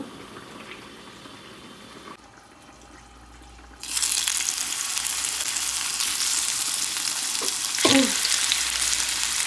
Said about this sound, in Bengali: আমি মেখে রাখা চিকেনটাকে এই যে ভেজে নেব